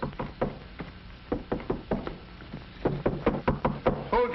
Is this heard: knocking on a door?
yes